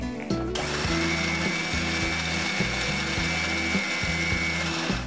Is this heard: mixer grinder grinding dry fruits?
yes